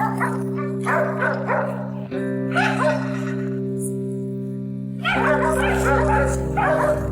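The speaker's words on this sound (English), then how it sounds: "the dogs are barking like crazy" Hunting dogs bark in bursts over a steady droning hum while tracking wild boar in a forest, fairly close, with some excited yelps mixed in.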